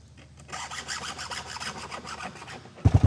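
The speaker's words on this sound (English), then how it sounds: "My dad is sharpening the chainsaw" An electric chainsaw chain is filed by hand, with rhythmic scraping strokes close by, ending in a few sharp low knocks.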